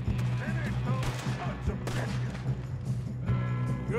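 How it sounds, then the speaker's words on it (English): Shots ring out in a Red Dead Redemption 2 gunfight, several sharp cracks scattered across a few seconds over a low steady hum, moderately loud and close. "Who's shooting at me now?"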